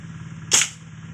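A single sharp crack from a homemade PVC airgun firing a pellet, loud and close, standing out briefly against a steady low hum.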